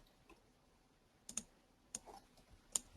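A computer keyboard gives a few sparse, faint clicks as the Control C shortcut is pressed while copying layers in craft design software, with no talking.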